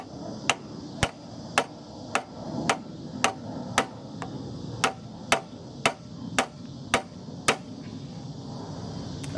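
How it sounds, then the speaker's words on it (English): A hammer taps a new primer bulb into place on a 5 HP Murray mulcher, about fifteen sharp, evenly spaced strikes close by, each a crisp knock over a faint background hum. "With this I'm going to have to do some harder taps,"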